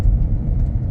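Hyundai Creta rolling along after an engine overhaul, a steady low rumble of engine and road noise filling the cabin evenly, with no talk.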